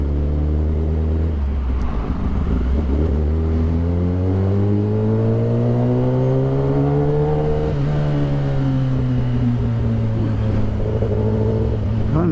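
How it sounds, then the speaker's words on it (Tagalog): Road traffic jam with a jeep and cars: loud, close engine drone that rises and falls as vehicles idle and creep forward, with no talking over it. "Nag-traffic dahil lang sa isang jeep."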